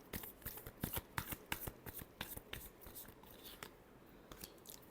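Tarot cards shuffled by hand, a quick irregular run of soft riffling slaps and papery flicks, close and fairly quiet, with no voices.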